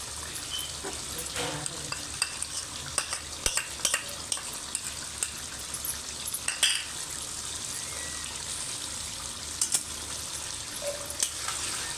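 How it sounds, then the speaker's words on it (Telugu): Gongura chicken gravy is stirred in a pan, a steady sizzle running throughout with repeated scraping and tapping of the spoon against the pan at irregular intervals. "మనకు అడుగు అంటకుండా కలుపుతున్నామండి"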